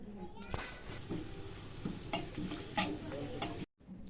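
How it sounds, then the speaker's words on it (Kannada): Half a tablespoon of cumin seeds frying in hot oil while being stirred, a steady close sizzle with scraping and small crackles, ending in a brief cut to silence. "ಅರ್ಧ ಟೇಬಲ್ ಸ್ಪೂನ್ ಅಷ್ಟು ಜೀರಿಗೆ ಹಾಕ್ತಿದ್ದೀನಿ ಜೀರಿಗೆ ಅಷ್ಟೇ ಚೆನ್ನಾಗಿ ಫ್ರೈ ಮಾಡ್ಕೊಳ್ಳಿ"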